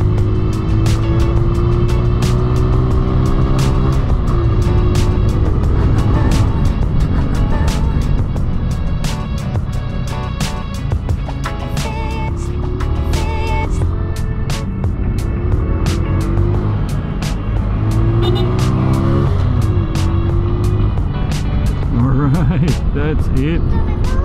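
A Bristol Cub Pro motorcycle rides on roads toward Antipolo, its engine droning steadily and loudly for the whole stretch, with wind rush and rising and falling revs as it moves through traffic.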